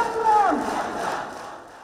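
Protesting students at a road blockade in Shahbag chant slogans together, a brief burst of loud massed voices that rises and then tapers off.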